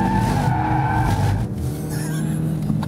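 Ford Focus RS in drift mode sliding through a long sweeping corner, its tires skidding and squealing under a steady loud engine drone, with no talk.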